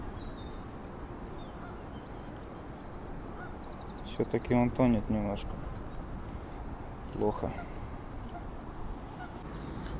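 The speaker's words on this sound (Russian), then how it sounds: "О, нет, гуси плывут на хлеб." Several geese honk in short bursts out on a pond, fairly distant, against steady outdoor background noise, with someone speaking quietly between the calls.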